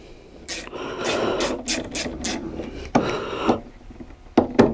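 A ratchet wrench tightens a nut during an oil and filter change on a Peugeot RCZ, giving close, loud bursts of clicking ratchet strokes separated by short pauses and some scraping.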